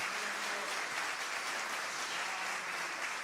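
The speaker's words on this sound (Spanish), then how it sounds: "Dele un aplauso al Señor en esta mañana." A church congregation applauds in a dense, steady wash of clapping that holds at an even level for a few seconds, with no voices over it.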